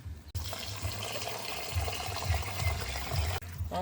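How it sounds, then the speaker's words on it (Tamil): Turkey berries (sundakkai) are swished and rinsed by hand in a bowl of water, a continuous close sloshing and splashing that rises and falls over several seconds with no speech. "2-3 தண்ணியிலே அலசி அலசி கழுவினா தான் அந்த விதையால் போகும்."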